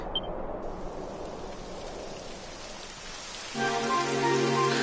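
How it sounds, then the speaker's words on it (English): Rain falls in the video game Dragon Quest XI, a steady hiss of drops on the ground that swells and grows louder partway through, with a faint tonal layer joining it. "It would have to go and start raining, wouldn't it?"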